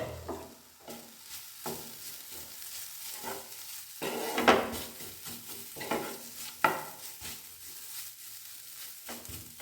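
Grated carrots for halwa stirred and fried in a pan, with irregular scraping stir strokes and a soft sizzle throughout, a few sharper utensil knocks standing out, close by with no talking.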